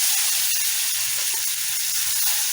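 Carrots sizzling in a spoonful of butter in a pan, a steady bright hiss of frying that holds evenly throughout with faint stirring underneath.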